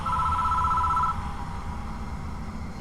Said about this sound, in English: The phone starts ringing out of nowhere.